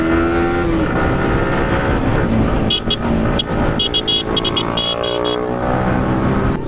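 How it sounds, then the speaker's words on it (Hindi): A V3 motorcycle with a full exhaust passes on a mountain road, a loud sustained engine roar with rising and falling revs that fills the whole stretch, close by, mixed with wind and broadband road noise. "वहाँ से अभी V3 आ रही पीछे फुल ऑन एग्जॉस्ट के साथ"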